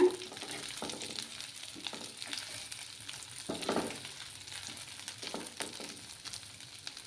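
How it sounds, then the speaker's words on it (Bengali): Dry fish with potato and brinjal frying on low heat, a soft steady sizzle with occasional stirring scrapes, close and fairly quiet throughout. "চুলার আঁচটাকে আমি কমিয়েই রেখেছি। একটু ভালোভাবে ফ্রাই করে নিতে হবে।"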